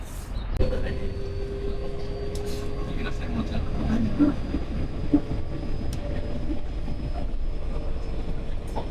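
A steady low rumble of a subway train running to Kansai Airport from Rinku Town station, Osaka, with faint rail clatter and a humming tone, as voices talk over it.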